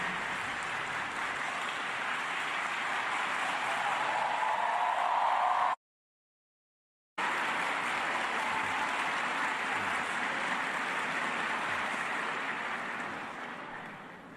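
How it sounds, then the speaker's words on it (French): Sustained, fairly faint applause fills a university ceremony hall at UNIFA as the audience welcomes President Jean-Bertrand Aristide. The clapping continues as an even wash, with a brief dropout in the middle. "Applaudissons chaleureusement notre président."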